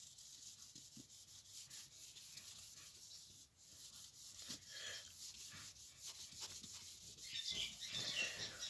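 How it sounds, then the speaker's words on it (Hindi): Steady dry rubbing of an eraser or duster across a board to wipe away handwritten maths, a continuous scuffing texture with brief pauses, close and fairly quiet, with no talking. "तो मैं इसको रब करूँगा पहले"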